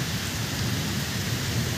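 Steady heavy rain in a thunderstorm, a dense continuous hiss of falling water with a low rumbling undertone, even and close throughout with no voices.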